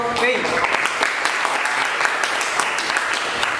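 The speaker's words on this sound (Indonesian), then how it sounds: "tepuk tangan untuk Pei." Classroom applause for a student's presentation, a dense steady patter of many hands clapping at once, sustained for several seconds, with a voice speaking briefly over the start.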